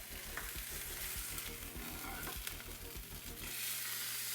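A steak sizzles loudly in a hot pan as it is flipped, giving a steady frying hiss with a rapid run of low thumps underneath and no talk.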